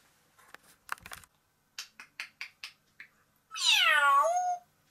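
A pet parrot imitates a cat's meow with one long, clear meow near the end, preceded by a series of short tapping clicks and soft sounds, close and loud in a quiet room.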